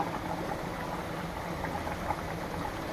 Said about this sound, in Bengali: গরুর মাংসটা ফুটছে সিদ্ধ হচ্ছে